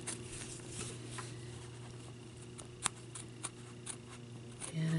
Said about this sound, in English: I'm just laying the scissor blades straight right along the edge here. And I'm turning the circle as I'm barely cutting.